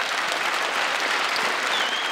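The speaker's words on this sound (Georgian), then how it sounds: "მარტო მამაკაცებმა დაუკარით აპლოდისმენტები" Men in the audience at a 2010 New Year show-concert applaud, a steady, even wash of clapping from many hands filling the hall.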